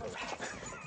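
A dog whimpers and yips on an outdoor hike along the Pacific Crest Trail near the Riverside County line, short high whines over wind and background noise.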